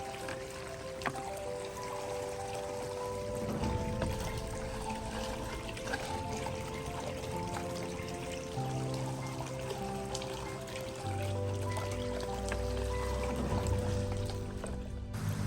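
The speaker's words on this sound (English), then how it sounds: "we'll run a brush up and down the Dream Mat in the sluice box" A brush sweeps up and down a Dream Mat in a water-filled sluice box while water trickles, drips and sloshes steadily nearby, with faint scrubbing and squishing under a constant wet wash.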